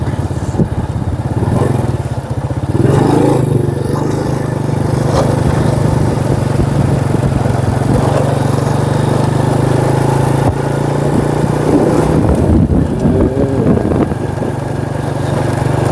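Motorcycle riding along a country road near a forest, a steady mid-pitched engine drone held at cruising speed with slight swells, close and continuous, with brief faint voices.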